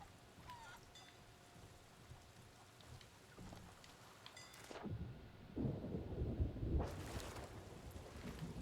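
A thunderstorm at sea in the Sea of Thieves game, distant rumbling thunder over rain and wind, building into two loud surging rolls with no talking.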